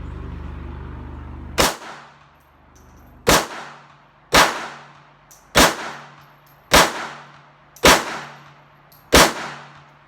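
Seven sharp pistol shots at a shooting range, evenly spaced about a second and a half apart, each a loud crack with a ringing decay, using either a Sig Sauer P238 or an Auto Ordnance 1911 A1.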